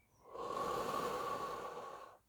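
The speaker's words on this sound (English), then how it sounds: "So take 3 deep breaths, just in" A single slow, deep breath drawn in through the nose during meditation, close and airy, swelling steadily for about two seconds before fading, with no talking.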